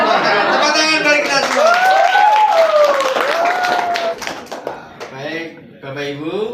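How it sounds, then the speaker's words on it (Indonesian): Applause at a coding and AI training workshop, clapping mixed with voices and a whistle-like cheer, lasting several seconds before speech takes over. "Tepuk tangan bagi kita semua."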